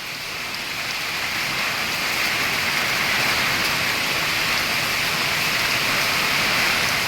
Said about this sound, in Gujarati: ખરા ટાઈમે વરસાદની એન્ટ્રી થઈ ચૂકી છે.